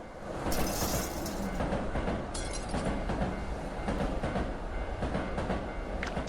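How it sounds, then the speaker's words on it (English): A train in the horror game Tsugunohi speeds past with loud, continuous rumbling and clattering wheels, a burst of shattering glass crashing in near the start. "Just then, a train speeds by, shattering the glass."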